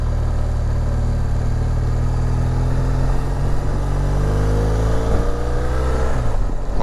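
A motorcycle engine hums and shifts pitch while riding along a winding road on the Isle of Skye, a loud close drone under steady wind rush, with no talking.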